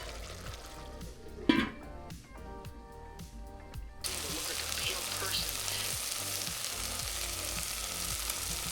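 Tomato cooking in a pan as the water cooks off and it begins to brown, a soft steady sizzle with a few clinks and stirring sounds early, then a brighter, fuller frying hiss.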